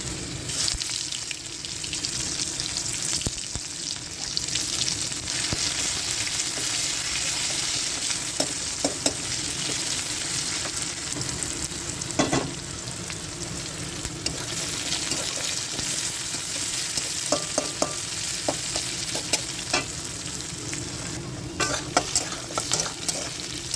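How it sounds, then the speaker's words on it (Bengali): Whole cumin, dried chillies, bay leaves, whole garam masala and onion frying in hot oil, a continuous close sizzle with scraping stir strokes and occasional clinks of a utensil against the pan throughout. "মোচাটার জন্য ফোড়নে দিয়ে দিচ্ছি গোটা জিরে, শুকনো লঙ্কা, তেজপাতা, গোটা গরম মশলা আর পেঁয়াজ দিয়ে ভালো করে নেড়ে চেড়ে নেব।"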